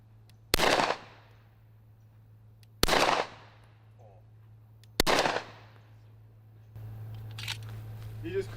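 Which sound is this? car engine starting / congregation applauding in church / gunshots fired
gunshots fired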